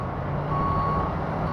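A truck at an asphalt paving site near a bridge sounds a steady, loud reversing beep tone over a constant diesel engine rumble.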